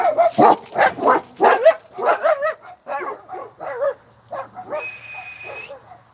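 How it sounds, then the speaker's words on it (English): Dogs indoors at home break into a loud, close burst of excited barking, with a rapid run of sharp barks and yips followed by a high drawn-out whine. "Sorry the dogs blew up. They think somebody's here."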